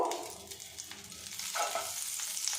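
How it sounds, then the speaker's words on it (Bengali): Butter melting into hot white oil in a pan over low gas, giving a steady close sizzle and crackle with some soft stirring, with no voices. "এবার এই তেলের মধ্যে 1 চামচ পরিমাণে বাটার দিয়ে দেব"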